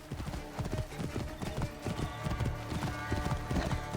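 Horse hooves clip-clop in a steady, brisk rhythm in Assassin's Creed Origins, close and clear over a continuous game backdrop, with a brief whinny-like tone among the repeated footfalls.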